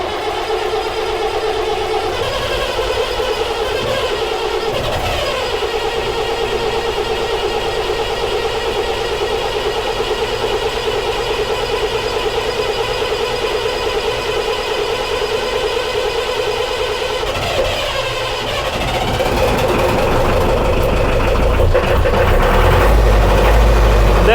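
A Scammell Scarab lorry engine runs at a loud, steady idle close by, its throb continuing throughout and rising slightly near the end.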